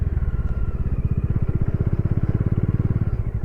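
A Bajaj Dominar 400 motorcycle rides a sandy, roadless track in Ladakh, its engine thumping in a steady, rapid, close pulse that stays loud throughout with no pauses.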